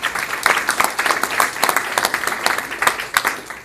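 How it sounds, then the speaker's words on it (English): Enthusiastic audience applause at a motivational talk on commitment, a dense burst of many hands clapping close and loud for a few seconds, alone without speech. "Give yourself a round of applause."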